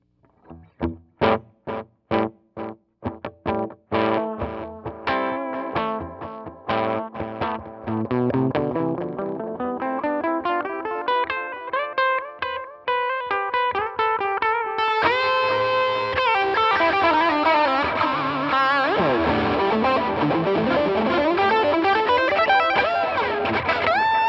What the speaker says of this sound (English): Now this is the industry standard for tube delays, which gives you extremely like a warm type of delay sound.